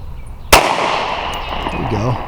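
A single sharp pistol shot from a Sig P365 or Walther PPS M2 compact handgun cracks loudly at close range on a shooting range, its echo decaying behind a man's spoken instructions.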